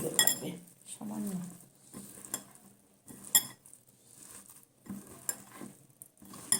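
Drumstick flower fritter batter with onion is being hand-mixed in a bowl, with soft wet squishing and intermittent light clinks of utensils against the dish, close and fairly quiet with no voices.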